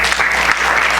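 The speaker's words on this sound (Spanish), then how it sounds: "Dale un fuerte aplauso al Señor Jesucristo." A short, dense burst of congregational clapping during a church service, loud and continuous with no voices.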